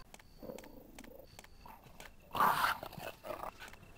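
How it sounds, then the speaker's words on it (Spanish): A zombie dog in the Resident Evil Director's Cut video game gives a short, gnashing growl-and-crunch burst midway through, set against quiet, murky in-game background sound. "Ojo que está el perro."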